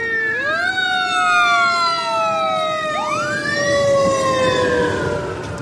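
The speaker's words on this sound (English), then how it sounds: "fire truck goes by" A fire truck passes close by with its siren wailing and sweeping up and down, loud over the steady roar of road traffic.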